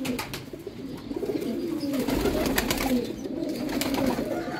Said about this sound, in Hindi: तो भाई वो कबूतर का शौक रहा है